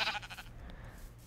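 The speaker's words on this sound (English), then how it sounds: "Please, pink sheep, did you grow up?" A pink sheep in a video game gives a short bleat that starts the clip, bright and near, then fades away under a soft low hum with no talking.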